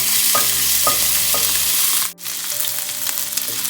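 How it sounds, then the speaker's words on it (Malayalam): Garlic, ginger and green chillies sautéing in hot oil give a bright, steady sizzle, punctuated by a few regular scrapes of a spoon stirring the pan and one brief dropout midway. "ഇനി ഈ വെളുത്തുള്ളി, ഇഞ്ചിൻ്റെയും പച്ചമുളകിൻ്റെയും പച്ചമണം മാറുന്നത് വരെ ഒന്ന് വഴറ്റി കൊടുക്കുക"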